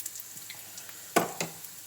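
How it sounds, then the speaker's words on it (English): Crispy veggie pancakes frying in oil in a pan, giving a soft steady sizzle with a couple of sharper crackles near the end, faint and close, with no talking. "Okay, now we're going to flip these pancakes again."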